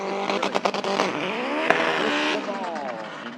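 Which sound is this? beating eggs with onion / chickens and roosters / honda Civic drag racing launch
honda Civic drag racing launch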